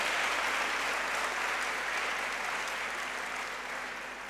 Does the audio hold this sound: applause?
yes